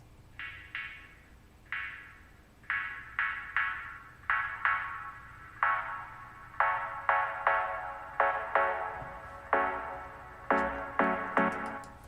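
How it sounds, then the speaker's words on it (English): Short synth chord stabs in a rhythmic pattern, their low end thin and gradually filling in as a low-cut filter sweeps down, no voices. "it's a low cut coming down to introduce these chords here"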